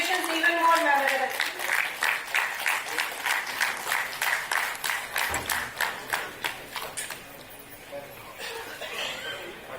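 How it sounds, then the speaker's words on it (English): A crowd applauds distinguished guests at an alumni celebration for UCEK, steady clapping with some chuckling that fades into sparser claps toward the end, over a brief voice at the start. "let us extend a warm, heartfelt round of applause to our distinguished guests gracing the dais"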